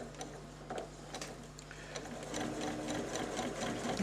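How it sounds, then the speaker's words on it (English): Sewing machine stitching rows of a quilt together, a close rapid mechanical chatter that starts in short bursts and then settles into a steadier, slightly louder run. "and then I start to sew."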